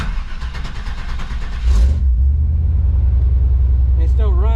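A 1995 Chevrolet Silverado engine cranks briefly, fires and settles into a loud, steady idle close by, with a voice speaking over the start.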